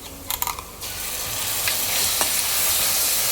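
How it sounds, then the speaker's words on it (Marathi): Ginger garlic paste fries with onions in a pan, a few quick stirring clanks at the start giving way to a loud, dense, even sizzle that holds steady to the end, with no voices. "आलं लसूणाचा उग्र वास जाऊपर्यंत आपल्याला हे भाजून घ्यायचं आहे"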